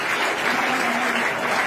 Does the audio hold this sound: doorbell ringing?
no